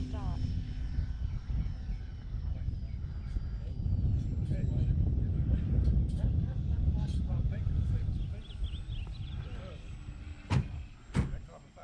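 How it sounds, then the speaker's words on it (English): An E-Flite Valiant RC airplane on a 3s 2200 battery makes touch and go landings, its electric motor droning steadily and swelling as it passes nearby, with a couple of sharp clicks near the end. "Another landing, touch and go."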